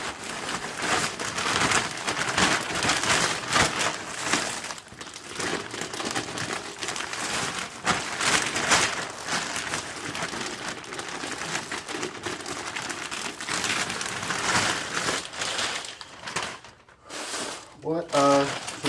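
Packaging crinkled and torn away from a new Ford Model A brake part for a 1931 Town Sedan, a loud, continuous close-up crackle and rustle of wrapping that keeps going with a few sharper rips near the end.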